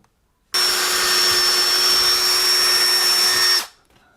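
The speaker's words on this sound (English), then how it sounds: "So let's go ahead and drill that out." A power drill whirs loudly and steadily for about three seconds, then winds down to silence.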